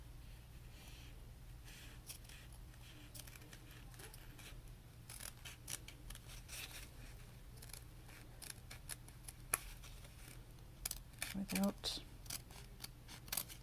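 Scissors snip repeatedly as tags are cut away from the mesh backing of a new shoe, crisp close clicks and rasps growing busier toward the end, with a voice speaking softly alongside.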